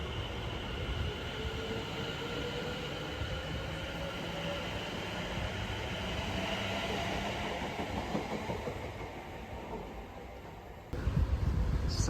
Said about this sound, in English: this is a Stansted Express service being operated by an Aventura